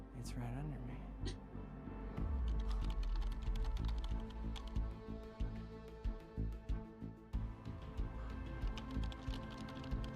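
Keyboard typing in the video game Quantum Break, scattered key clicks rising into a steadier run of taps later on, beneath a low rumbling game background with a person talking early.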